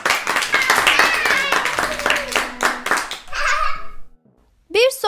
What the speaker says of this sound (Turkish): Palyaçolarımız Mert ve Serhat'a kocaman alkış.